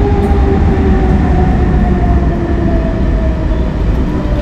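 A train at Montreux railway station in Switzerland runs loud and close, a steady rumble with sustained tonal whine throughout; no talking.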